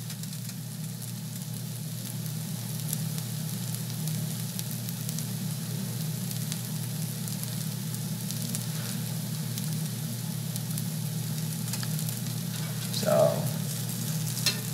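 Salmon and potato pancakes fry in a pan with a steady, even sizzle, close and constant throughout, with a single spoken word and a brief scrape near the end.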